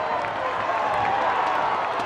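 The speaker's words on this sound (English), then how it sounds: "And the traveling support's going crazy for the Roots." Travelling football supporters cheer and applaud after an Oakland Roots goal at a match against Monterey Bay F.C., a steady, dense roar of crowd noise and clapping that stays loud throughout.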